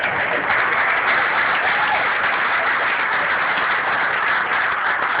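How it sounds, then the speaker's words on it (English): Wedding reception guests applauding during the speeches, a steady, dense wash of clapping that holds evenly for the whole stretch without any talk over it. "So everybody just grab a clap"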